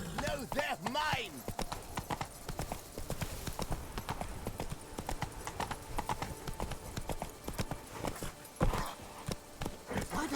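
Horse hooves clip-clopping at a steady run in the Witcher 3: Blood and Wine video game, rhythmic and fairly close, with snorts and game character voices talking over the hoofbeats.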